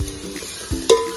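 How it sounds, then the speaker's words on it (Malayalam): Onion, biryani masala, green chilli, ginger and garlic paste roasting in a pan, with stirring scrapes and a soft sizzle, then a sharper clink of the spoon near the end, no voices. "ബിരിയാണി മസാല കൂട്ട്, പിന്നെ പച്ചമുളക്, ഇഞ്ചി, വെളുത്തുള്ളി പേസ്റ്റ് നമ്മളൊന്ന് റോസ്റ്റാക്കി എടുക്കണം"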